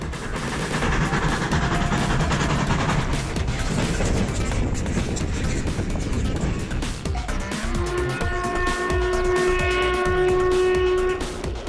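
A steam train hauled by locomotive 310.0134 rumbles past in Slovakia with loud rapid clattering and chuffing, then a screeching, tonal whine of wheels or brakes rises near the end.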